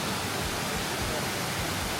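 Fountain waterfall with a grotto behind it in Tivoli, Italy, pouring in a steady, dense rushing hiss that stays constant and close throughout.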